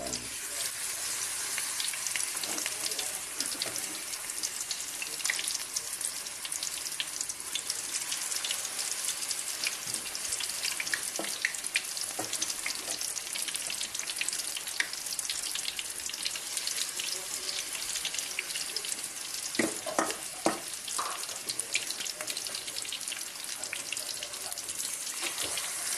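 Breaded katuray flowers fry in hot oil with a steady, hissing sizzle and scattered sharp crackles and pops, heard up close with no talking.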